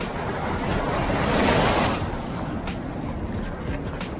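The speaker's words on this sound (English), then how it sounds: "The waves here are incredible." Ocean surf rolls onto a flat sandy beach with clear water in El Salvador, a steady broadband wash that swells louder around the middle and then settles into a continuous hiss, with wind buffeting the microphone.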